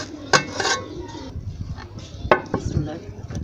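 A metal tawa set onto a pot of rice for dum cooking clanks sharply twice, with smaller metallic knocks and scrapes in between, close and clear in a home kitchen.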